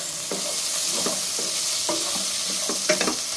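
Ginger, mint leaves and chopped tomato sautéing in a hot pan for a cauliflower and peas masala, a close, steady sizzle broken by repeated scraping stirs, with no voices.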